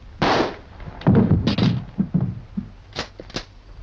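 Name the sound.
gunshot in the film Night of the Living Dead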